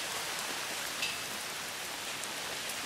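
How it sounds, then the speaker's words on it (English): Steady heavy rain pours down between Old Sodbury and Bath in England, a dense continuous hiss of drops drumming on surfaces, with no voices. "Heavier rain still."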